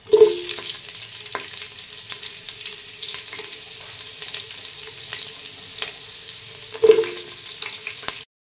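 Onions and spices fry in hot oil in a pan, giving a continuous close sizzle with two sharp bursts of crackle as ingredients go in and occasional scrapes of stirring, with no talk.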